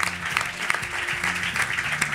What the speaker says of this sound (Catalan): un aplaudiment per Casa Gràcia, sisplau